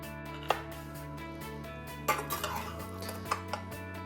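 A utensil cuts into a warm corned beef and cabbage meatloaf with rice and onion on a dish, with a few sharp clinks and scrapes against the plate over a steady background hum.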